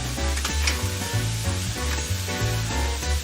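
Vegetables for meatloaf sautéing in a pan, a continuous loud sizzle close by with faint stirring and background music underneath.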